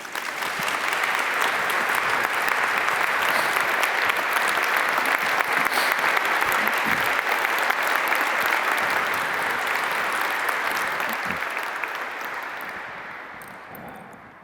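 Sustained audience applause welcoming lecturer Dr. Rowan Williams, dense and even clapping from a large crowd that holds for about twelve seconds before tapering off.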